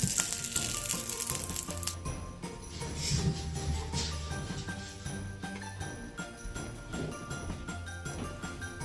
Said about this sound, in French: on fait cuire un petit test de farce